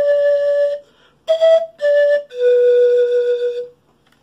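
An Andean quena or zampoña plays four breathy, flute-like notes, fa, mi, re, si, the last held longest, alone and close in a quiet room.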